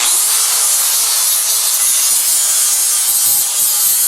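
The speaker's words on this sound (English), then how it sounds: "We'll just show you a little bit of grinding." Angle grinder cutting and grinding steel on a 1955–1959 Chevy truck front frame, a loud continuous high hiss and whine holding steady throughout with no talk.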